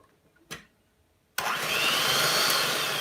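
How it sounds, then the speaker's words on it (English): An electric stand mixer switches on at first speed to whip meringue for black macarons, a steady loud whirring drone that starts abruptly after a brief clunk and runs on without talk. "my mixer is so fast, but I'm gonna be on the first speed"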